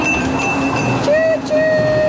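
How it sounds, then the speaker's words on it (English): A small tourist ride train on a farm passes with a steady rumble, and sustained whistle-like tones ride above the mix. Voices talk over the noise throughout. "There's the choo-choo train."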